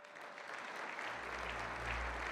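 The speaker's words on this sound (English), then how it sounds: "A round of applause, please." Applause from a theater audience greeting escapologist Harry Houdini on stage, a brief, soft wash of clapping with a low hum rising underneath partway through.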